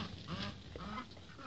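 Muscovy ducks call in a continuous low, breathy chorus of hisses and soft honking notes, with several birds audible at once at moderate distance and a steady noisy background.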